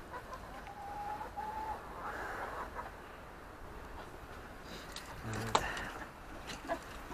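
Chickens and a rooster with an interesting comb cluck in a coop on a forest homestead. A few short, sharp bird calls rise over a soft, steady background, heard alone at moderate distance.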